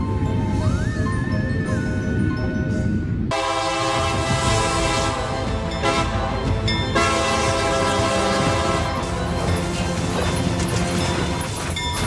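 A train sounds its loud, sustained horn while the heavy rumble of rail cars continues, with an abrupt shift partway through into another stretch of blaring horn and rolling train noise.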